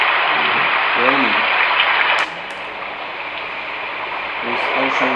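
Steady rain sound from a baby white noise machine, a close, even hiss that drops slightly in level partway through, with brief talking heard over it.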